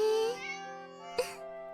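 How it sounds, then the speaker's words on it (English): A cat in a visual novel game, Summer Pockets Reflection Blue, gives a clear, close meow with a drawn-out harmonic tone, followed by a second short, sharp mew near the end. "All I heard was meow."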